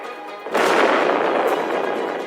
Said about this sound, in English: Truman orders the dropping of the atomic bomb on Japan.